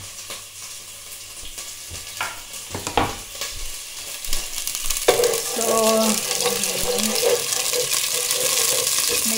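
Food frying and sizzling in a pan while cooking shepherd's pie, with water spattering into hot oil; a steady, bright hiss swells midway and keeps going, and someone speaks briefly at the start.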